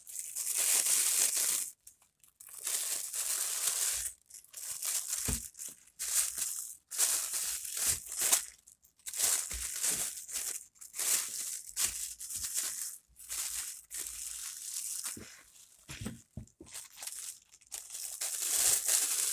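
Plastic freezer bags crinkle and rustle in repeated bursts with short pauses as salted fish is wrapped tightly, fairly close and moderately loud, with no talking.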